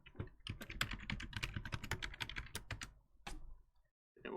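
Rapid typing of an administrator password on a computer keyboard while setting up a Windows Server 2019 domain controller, a dense run of close key clicks that stops briefly before a few more keystrokes.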